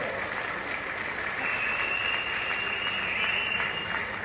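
Sustained audience applause at the NPC Mr Kerala 2023 bodybuilding competition as the athletes hold a most-muscular pose, a steady, even wash of clapping in a large hall that runs throughout.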